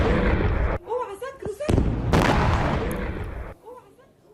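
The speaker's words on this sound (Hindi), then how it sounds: "इजरायल ने पूर्वी लेबनान के बेका इलाके में हवाई हमले को अंजाम दिया।" An Israeli airstrike on Hezbollah positions in the Bekaa area of eastern Lebanon: heavy, booming blasts and rumbling bursts arrive one after another, with brief shouting voices between them.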